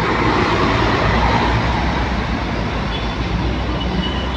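A Harapan Jaya intercity bus on the Madiun–Jakarta route passes close by at a roadside bend in West Cikarang in the afternoon. Its engine roar and road rumble are loud and continuous throughout, with no talking.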